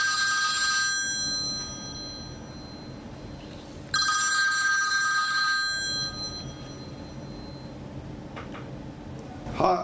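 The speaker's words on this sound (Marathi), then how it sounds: "मी आमचे मुख्य संपादक उदय निरगुडकर यांना थेट फोन केला." A telephone rings on a call to a chief editor. Two bright, trilling ring bursts come from close by, separated by a short pause. Only faint background noise follows.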